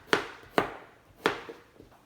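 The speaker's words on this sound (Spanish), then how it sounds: "las voy a cortar de esta forma" A knife cuts Mexican squash (calabacitas) on a board, giving three crisp, close chops at an uneven pace and a fainter fourth tap at the end.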